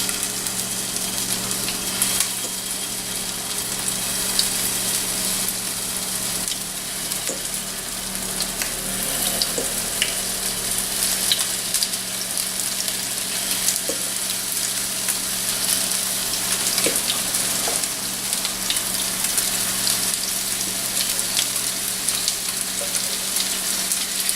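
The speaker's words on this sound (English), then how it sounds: "I'm gonna put them in a skillet full of olive oil" Meatballs fry in a hot skillet full of olive oil, a steady loud sizzle with occasional pops and crackles, continuous throughout with no talking.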